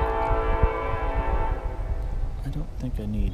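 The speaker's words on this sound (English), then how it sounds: "there's that train." Train passing near an outdoor yard, rumbling and clattering with a sustained horn blast over the first half, then continuing rail noise and rattling, loud and close, with a person talking over it.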